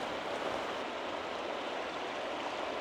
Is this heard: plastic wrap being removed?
no